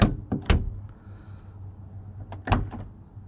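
A car door being opened, with a couple of sharp latch clicks and a thunk near the start, then a quieter stretch and another pair of latch-release clicks near the end, close by over a low idling hum.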